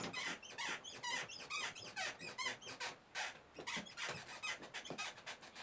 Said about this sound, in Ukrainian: Я знаю, він скрипить